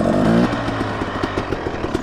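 A motorcycle engine revving as the front brake is held and the clutch is popped for a slow wheelie: a loud close roar that drops into a pulsing, choppy idle-like throb.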